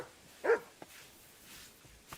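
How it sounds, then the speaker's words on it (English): A single short dog bark in the medieval role-playing game Kingdom Come: Deliverance, fairly close and clear, followed by quieter faint sounds against low ambient game background. "Mutt, come here. You silly doggy."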